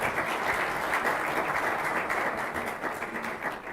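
Sustained audience applause at an African Academy of Sciences session, a steady dense wash of many hands clapping throughout, moderately loud and continuous with no voices over it.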